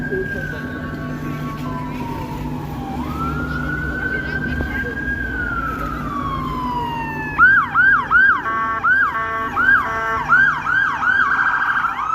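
An emergency vehicle siren wails nearby on a cold downtown Toronto street, a long rising-and-falling tone that shifts into a rapid repeating yelp over traffic rumble.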